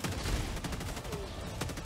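Helldivers 2 co-op shooter combat: a quiet, muffled stretch of sustained gunfire and bursts under a continuous rumble, with no clear speech.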